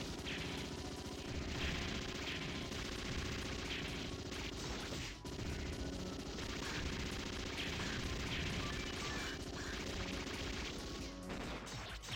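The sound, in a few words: heavy machine gun firing in the video game Metal Slug 6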